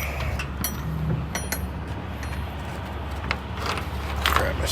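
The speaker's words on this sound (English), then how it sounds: "All right, let's get this door" Cargo door of a delivery truck being opened at a Best Buy distribution center, with a series of metallic clicks, rattles and ratcheting clanks over a low steady engine or yard hum, fairly close.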